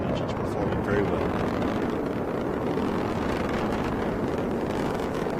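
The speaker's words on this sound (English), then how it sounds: "All 9 engines performing very well." The nine engines of a SpaceX rocket roar during launch as a steady, dense, rumbling wall of noise with no breaks, a voice speaking faintly beneath it.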